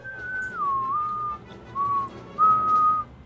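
A person whistles a short, wavering tune in a few separate phrases, clear and fairly close, with low background hum from a War Thunder game session.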